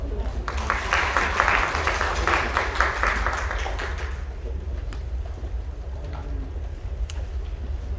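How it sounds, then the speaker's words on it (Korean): An audience in a policy forum room at the National Assembly claps for a few seconds, the applause fading out, leaving a quiet room with faint scattered sounds. "큰 박수 부탁드리겠습니다."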